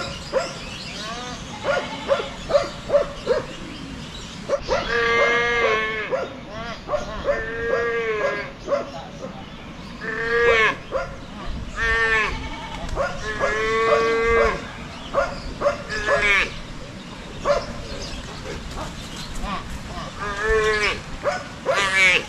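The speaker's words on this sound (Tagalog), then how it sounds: "Yung maliit na kalabaw, oh." A young carabao calf bellows repeatedly for its mother on a farm, loud drawn-out moos in a broken rhythm, with a dog barking and a person speaking at times.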